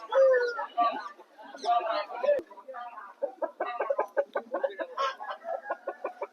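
Roosters at a Sunday rooster market in Vijayawada cluck and crow in repeated close bursts, with someone talking between the calls.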